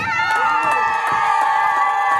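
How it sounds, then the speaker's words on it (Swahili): A church gospel crusade congregation cheering with high ululation and shouts for the Lord, a dense, steady, loud wash of voices from nearby with sharp bursts rising throughout. "Piga makofi na vigelegele kwa Bwana"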